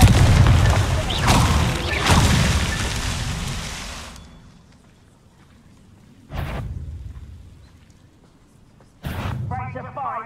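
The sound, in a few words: Confringo spell explosion from a video game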